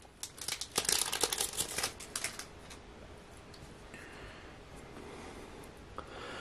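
A foil hockey card pack wrapper crinkles and tears open up close in a burst of loud rustling, then the crackle fades to quiet handling.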